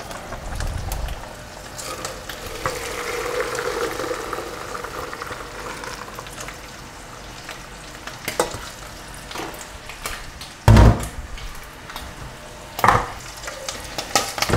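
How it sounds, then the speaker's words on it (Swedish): Pasta for carbonara fries and is stirred in a hot frying pan with oil and fat, giving a steady sizzle with scraping stir noises and a few louder clunks of utensils against the pan, with no talking. "så då sätter vi igång stekpannan här igen på effekt så att vi får upp värmen igen"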